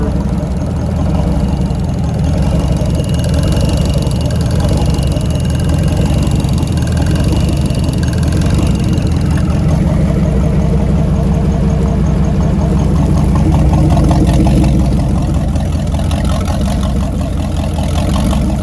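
A 1993 Crusader 350 XL marine engine fitted with Holley Sniper EFI idles low and steady, a dense, loud rumble running unbroken throughout with no talking.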